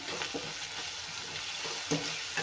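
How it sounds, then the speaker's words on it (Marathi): Cabbage sautés in a pan with coriander powder and red chilli powder, giving a soft, steady sizzle with faint scraping stirs, close up and quiet, with no one talking. "हे पण परतून घेऊया व्यवस्थित।"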